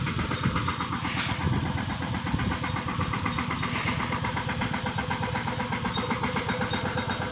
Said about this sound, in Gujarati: અહીંયા ઠલવાનું છે ટ્રેક્ટર આવે